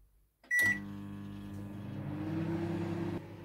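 A microwave oven heating a quick dinner of cold cuts and potatoes gives one short beep, then settles into a steady, close electrical hum with a faint whirring drone that holds to the end.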